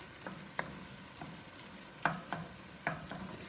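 Ground beef, 85% lean, browns in a pan for homemade meat sauce, giving a low quiet sizzle with a few distinct scrapes and taps from a utensil stirring it, close by and without speech.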